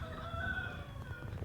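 Young homestead roosters crow in a strained, wavering way, a single crow close by with faint clucking underneath.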